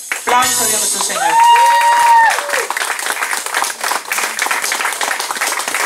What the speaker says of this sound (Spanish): Aplausos a Dios nuestro Señor.